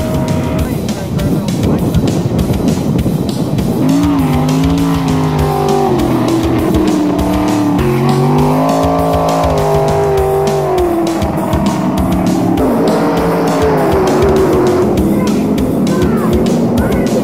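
Race car number 15 roars past loud and near at a dirt track such as Grand Forks Speedway, its engine pitch sweeping up and down through a steady, continuous drone with a faint voice beneath.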